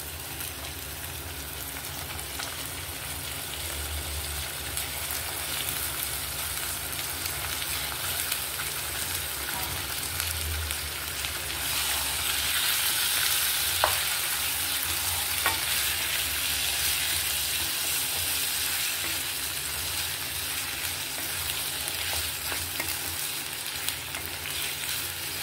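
Half a kilo of chicken fries in ginger garlic paste, a loud, continuous close-up sizzle that swells partway through amid occasional stirring clinks, with no voices.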